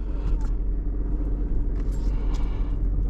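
A 1994 Oldsmobile Eighty-Eight Royale idles with a steady low rumble, heard up close and fairly quiet, with a few faint light clicks and scrapes over the top.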